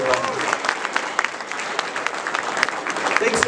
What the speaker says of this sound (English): Why don't you stand up and get a round of applause from everyone.